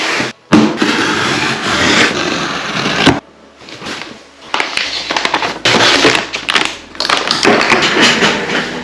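Unboxing a Huel Black Edition meal pack: cardboard and packaging rustle, tap and thump close by in bursts, with brief quiet gaps between handling noises.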